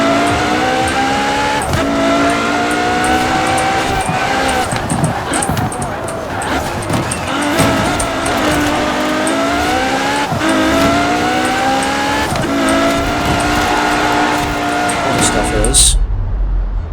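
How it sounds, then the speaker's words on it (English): A Ferrari F40's engine races through snowy, poor weather in Forza Horizon 4, revving loudly and steadily with repeated gear-shift dips and rising pitch sweeps, tire noise beneath, cutting off abruptly at the end. "Ferrari F40."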